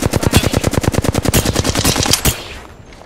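Fast automatic weapon fire in Apex Legends, a loud, close, steady rhythm of roughly twenty evenly spaced shots that cuts off and fades into a brief tail.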